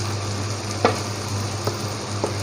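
Cumin powder sizzles in hot oil for a beef curry, a continuous frying hiss over a low hum, punctuated by three short taps of a spoon against the pot.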